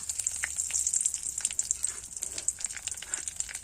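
Black cumin seeds and bay leaf sizzling in hot oil for a Bengali doi begun curry, a close, continuous crackle with quick popping spatters and no voices over it.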